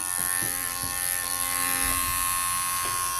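Electric grooming clippers fitted with a snap-on comb skim the legs of a Shih Tzu puppy. A loud, steady motor buzz holds from start to finish, with a few faint thuds from handling.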